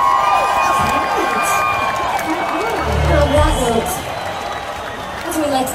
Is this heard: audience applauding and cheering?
yes